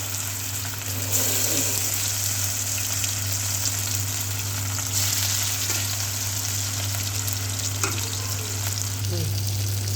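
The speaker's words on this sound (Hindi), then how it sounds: "देखिए, एक साइड हो गया था फ्राई तरफ, फिर इसको मैंने पलट दिया।" Chicken pieces with egg frying in a pan give a steady close sizzle with occasional stirring clatter, continuous for the whole stretch and without talk.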